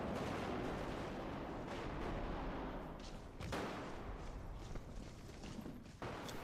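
Muffled gunfire from behind a wall in the Body Cam video game, with reworked occlusion, comes through as a dull, steady rumble with a few faint, soft-edged shots near the middle and end.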